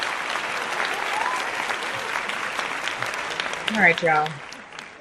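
Applause from an audience for podcast guest Deja, steady clapping throughout with a voice speaking briefly over it near the end.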